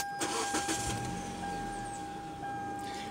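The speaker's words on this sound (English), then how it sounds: "Start the engine." A BMW car engine cranks briefly and catches, then settles into a quiet, steady hum, heard faintly with no talking.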